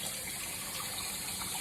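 Tap water gushes steadily over a houseplant's roots in a clear container, rinsing away white residue from the roots; a loud, continuous, close rushing stream with no talk.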